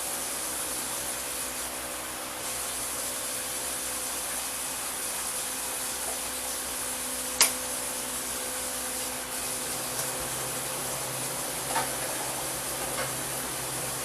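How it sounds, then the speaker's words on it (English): A stove exhaust fan roars steadily in a home kitchen while dishes are washed nearby, a constant broadband whoosh with a few faint clinks and taps scattered over it. "The noises you hear in the background are the fan over the stove, and Judy's over there doing some dishes."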